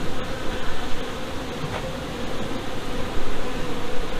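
Honeybees and newly hatching drones buzz inside a hive, a steady dense drone of wings filling the clip at moderate level with no talk over it.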